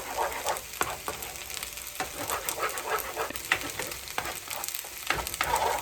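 Eggs fry with rice in a hot pan for breakfast fried rice, giving a steady sizzle broken by frequent stirring scrapes and tosses. A dog pants and whimpers nearby.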